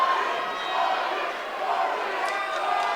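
Spectators at a charity women's boxing match chant together in a hall, a steady, dense roar of many voices that fills the whole space.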